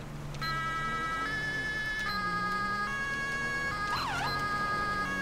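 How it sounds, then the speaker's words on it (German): Several emergency sirens wail continuously in the GTA V LSPDFR police game, steady tones layered over constant engine and road rumble, with one siren sweeping up and down near the end. "Was sind das für Sirenen, die ich hier habe?"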